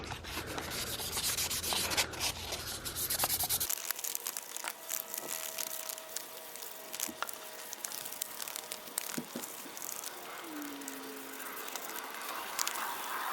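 600-grit sandpaper rubs against a Saab 9-3 grille, a close, dry scratchy rasp of repeated strokes, with a denser burst of rubbing at the start and quieter, uneven passes after.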